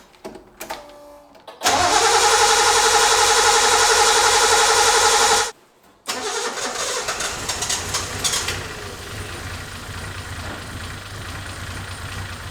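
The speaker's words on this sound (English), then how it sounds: "let's see if it starts with just the key." A Datsun 260Z engine cranks on the key after sitting, then catches and roars loudly at high revs for several seconds, cuts out briefly, then restarts and settles into a rough, steady idle close by.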